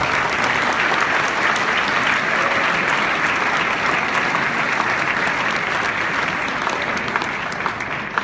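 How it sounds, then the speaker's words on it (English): Gala crowd at an awards event gives sustained, loud applause, a thick continuous roar of many hands clapping that holds steady for about eight seconds before easing slightly at the end. "And I think that deserves some applause"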